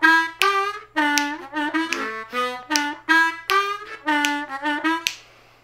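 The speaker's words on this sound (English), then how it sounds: "that lick is the mother of all licks in that whole song" Harmonica playing the opening lick of a song, a run of short punchy blown and drawn notes repeated in quick rhythmic phrases, close and loud with no talking.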